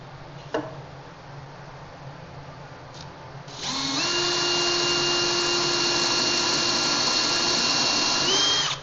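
A power drill bores a dowel hole into wood for a planter box, a brief blip and then a sustained high whine that starts partway through and holds steady, close and loud, with no talking.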